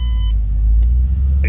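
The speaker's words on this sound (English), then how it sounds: "It's a deep, throaty exhaust to it." Deep, throaty exhaust from a 2008 Ford Mustang Bullitt, a steady low rumble idling close by for a moment with no talk over it.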